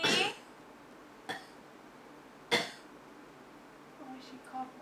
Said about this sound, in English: Oh, she coughed.